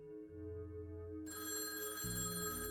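A telephone ring sound effect plays as a sustained electronic tone that shifts partway through and then gains a low hum beneath it, faint and steady with no voices.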